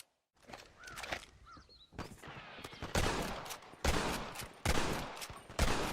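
Heavy video-game gunfire in loud repeated bursts, several broadband blasts and rattling volleys building over a few seconds, with a short quieter stretch near the start.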